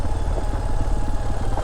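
A motorcycle skids along a muddy monsoon-season route up toward Gajendragad hill fort, its engine a steady, close, low rumble with no talk over it.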